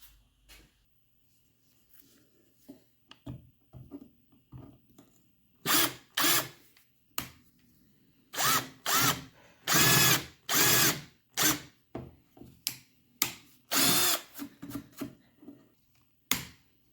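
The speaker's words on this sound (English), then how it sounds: "why I'm doing this big drill bit first is so I can plug the screw holes with dowels" A power drill with a big bit bores holes into scrap wood, close and loud, in short bursts and longer runs separated by pauses and small handling knocks, with no talk.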